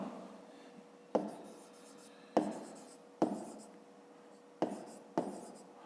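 Pen or chalk writing by hand during a fifth-grade maths exercise, heard as a series of about five sharp tapping strokes with short scratchy tails, close and fairly quiet with no talk over them.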